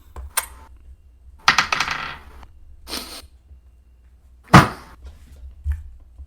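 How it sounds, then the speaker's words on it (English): Dice rolled for a tabletop role-playing game: several sharp clattering bursts of small objects tumbling and skittering on a hard surface, spaced apart over a few seconds, fairly close and loud, with no talk. "I'm gonna roll a different dice."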